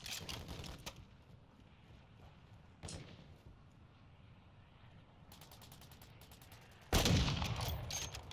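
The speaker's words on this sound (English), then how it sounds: "Gunshots up ahead." Several bursts of rapid gunfire in the video game Call of Duty DMZ on Ashika Island crackle at a distance, separated by quieter stretches, with a louder close volley near the end.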